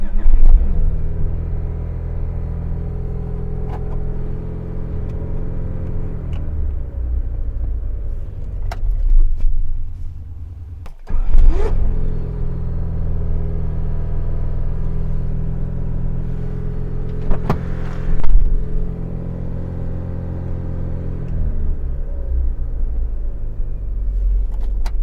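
A Honda Civic CRX engine turns over with a brief crank after a starter motor replacement, catches, and settles into a steady low rumbling idle, with a short pause and a couple of revs along the way.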